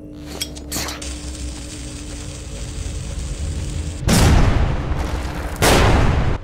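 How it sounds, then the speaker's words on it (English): Two loud grenade blasts in the video game Metro 2033 Redux, about a second and a half apart, ring out over a steady background rumble and hum; no one speaks. "I heard two explosions, so that should have done it"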